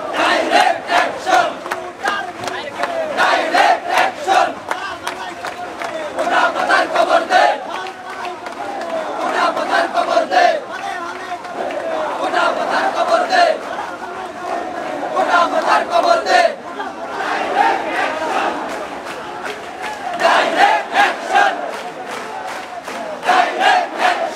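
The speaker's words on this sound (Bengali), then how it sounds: "সকলেই কিন্তু স্লোগান দিচ্ছিলেন" Protesting students on Dhaka University campus chanting slogans against the quota system, a loud crowd calling out in rhythmic bursts with brief pauses, led call-and-response style over continuous crowd noise.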